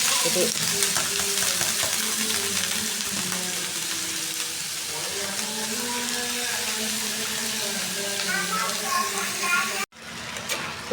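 Mixed vegetables and onions fry together as a bhaji in hot oil, giving a steady broadband sizzle with occasional stirring scrapes; a brief cut near the end briefly silences it, and a faint voice talks underneath.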